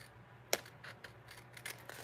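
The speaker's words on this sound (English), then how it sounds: "All you need to do is take your scissors." Old junky scissors trimming a paper envelope for a sunflower card craft: one sharp close snip followed by faint, softer cutting and rustling sounds, quiet and without talking.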